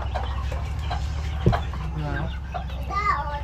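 Chickens clucking in short repeated bursts close by, with a sharp knock partway through and people talking quietly in the background.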